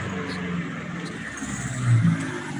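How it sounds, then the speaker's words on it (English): A loud modified car engine revving in a neighborhood: a low, throaty rumble that builds to a brief surge near the end, heard fairly close. "The car sounds amazing."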